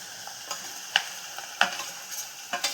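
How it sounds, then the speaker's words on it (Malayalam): Coconut, turmeric and green chili are stirred in a pan over a soft, steady sizzle, with several sharp scrapes of a spoon against the metal, close and fairly quiet. "ഇളക്കി കൊടുക്കുന്നുണ്ടേ."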